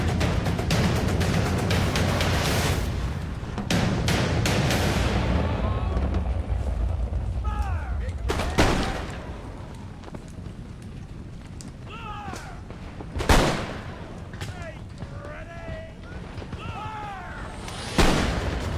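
Musket volleys from lines of infantry in a Battle of Monmouth video game: dense rolling rumble of massed gunfire, then a few loud separate booming shots, with faint distant cries and shouts scattered through the battle noise.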